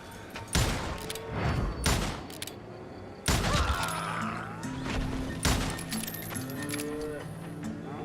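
Several loud, sharp gunshots crack out in separate bursts in the Call of Juarez: Gunslinger western shooter game, set over a steady low musical drone with some animal-like calls.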